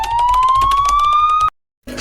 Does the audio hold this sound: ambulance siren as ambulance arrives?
yes